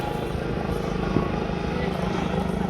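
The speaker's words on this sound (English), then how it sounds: "now they have the helicopter out" A helicopter flies overhead during an emergency search for a missing person, its steady low rotor drone continuous and fairly loud for the whole stretch with no voices breaking through.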